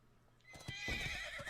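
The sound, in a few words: horse neighing in a video game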